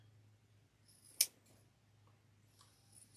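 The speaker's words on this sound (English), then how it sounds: "take my scissors and cut off" Scissors snip once through a green floral sponge, a single sharp cut standing out against near silence, followed by faint rustling.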